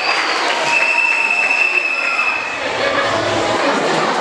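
An audience at a school cultural evening celebrating a lycée's diamond jubilee claps steadily in a dense burst of applause, with a brief dip midway.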